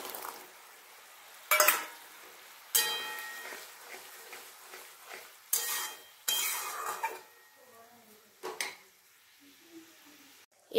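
Green peas tipped and stirred into a paneer gravy in a pan, giving several sharp clattering bursts of utensil on metal with quieter scraping and faint simmering between them.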